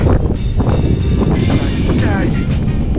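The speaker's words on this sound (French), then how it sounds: "Oh, il y a un vent ici." Heavy wind buffets the microphone in loud, rumbling gusts while a person speaks briefly underneath.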